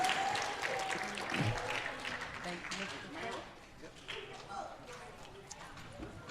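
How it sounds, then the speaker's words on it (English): An audience at a fifth-grade DARE graduation applauds a class for completing the program, a continuous roomful of clapping that slowly thins, with voices and cheering mixed in. "Please give them a big round of applause for completing the program."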